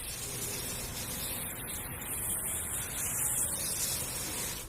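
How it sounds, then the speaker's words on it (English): A hose sprays water over an aluminum rim after clear coat removal, a steady close hissing spray that runs without a break. "just get your hose and hose it down."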